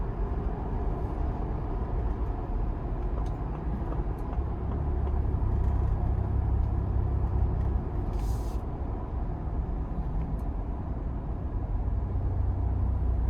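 A 2025 Ford Bronco Badlands with a 2.7 twin-turbo V6 and Sasquatch package, heard from inside while driving slowly through town: a steady, low, muffled engine and road rumble with no one talking.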